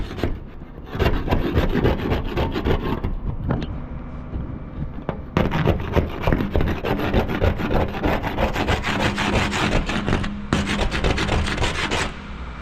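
A Goodson scraper grinds and rasps against the hopper of a Putzmeister concrete pump, giving loud, continuous rough scraping strokes close by with a few brief pauses.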